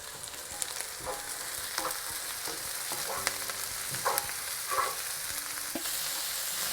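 Finely chopped cabbage and softened vegetables frying in a pan, a continuous close sizzle punctuated by periodic stirring taps and scrapes, with no voices.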